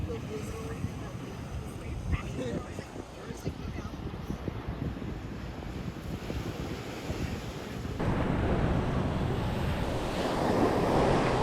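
Surf breaking along the California coast about fifteen minutes north of Laguna, a steady broadband wash with wind buffeting the microphone, swelling louder near the end.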